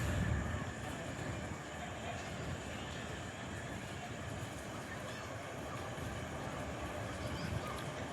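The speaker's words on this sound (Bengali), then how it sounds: "এই মুহূর্তে যে ট্রেনটি আসছে এটি হচ্ছে হাওড়া আজিমগঞ্জ স্পেশাল ট্রেন।" A Howrah–Azimganj special train pulls into a station, a quiet, even rumble of rolling rail cars heard from some distance, with faint voices underneath.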